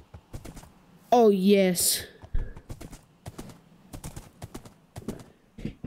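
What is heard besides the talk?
horse galloping in Minecraft video game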